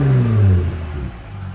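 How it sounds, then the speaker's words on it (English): A Jeep JL's aftermarket exhaust revs up then falls away, the exhaust note dropping in pitch as it settles back toward idle, close and prominent. "You probably can hear the exhaust. I'll give it a couple revs"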